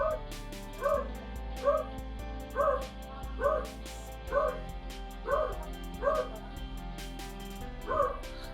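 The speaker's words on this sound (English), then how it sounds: "He just every time someone knocks on the door, he just barks." A beagle barks at a knock on the door, a steady series of about eight evenly spaced yips roughly once a second, fairly close, with some background talk underneath.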